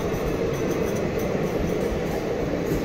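A train just back from the Ram temple in Ayodhya runs at speed, its steady broad rumble and rail noise loud and continuous throughout, with no voices over it.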